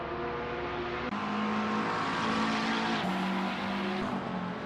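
GT3 race cars on the final lap of a 2019 ASRNZ race, engines droning loudly and continuously with a pitch shift and gear changes as cars pass close by, with no pause between them.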